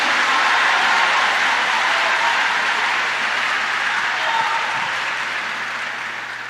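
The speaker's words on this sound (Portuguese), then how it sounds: "se é para aplaudir é todo mundo junto de uma vez só" Thick, continuous congregation applause fills a church service, a steady wash of many hands clapping at once that slowly fades toward the end, with no talking over it.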